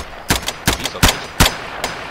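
Gunfire in the video game Garry's Mod, heard as four sharp, evenly spaced shots about a third of a second apart, fairly loud with nothing else going on between them.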